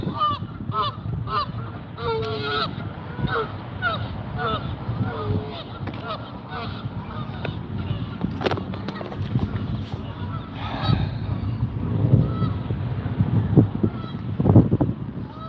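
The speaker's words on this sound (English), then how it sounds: "Good goose." Geese honk repeatedly outdoors by a parking lot, a noisy flock calling in overlapping bursts close by, with faint traffic and occasional talk in the background.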